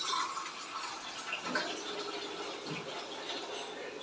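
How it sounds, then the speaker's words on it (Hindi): Water poured into a pan of masala spices for stuffed eggplant bharma: a steady hissing, splashing rush with no clear pauses, close and fairly soft, with no voices. "इसमें हम थोड़ा पानी डालेंगे"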